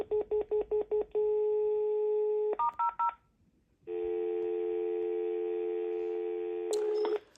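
A run of short, evenly spaced DTMF keypad beeps from a Panasonic KX-TGJ420E phone, then longer steady tones of different pitch, a brief pause, and a long sustained dual tone. Clear and close.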